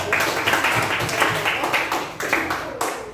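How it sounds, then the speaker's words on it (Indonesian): Classroom applause during a lesson on artificial intelligence, a busy but loose burst of clapping from students that swells and dips unevenly, with some voices mixed in. "Tepuk tangan dulu ya."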